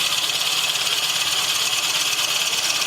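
A wood lathe at a woodturning symposium, steadily running and drilling into a wooden blank, giving a continuous, loud, bright whirring and grinding noise with no talk.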